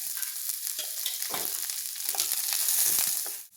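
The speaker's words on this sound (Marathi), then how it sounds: "सगळ्यात पहिले आता यात कांदा टाकते. कांदा भाजताना यात थोडंसं तेल घालायचं." Onion frying in oil in a pan for a dry prawn curry gives a loud, steady, close-up hiss and crackle that continues without pause and cuts off abruptly near the end, with no speech.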